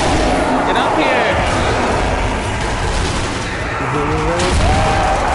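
Dense, continuous gunfire from enemy machine gunners in the zombie shooter game Zombie Army Trilogy, a steady loud rattle layered with game effects while players talk over it.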